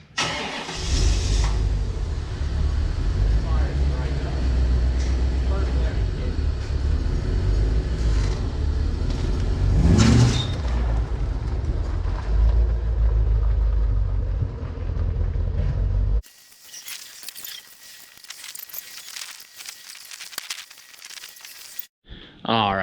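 A Corvette C4 starts and rumbles loudly up close while being moved, with a brief rev near the start and middle. The engine then cuts off, leaving quieter shuffling and faint background noise.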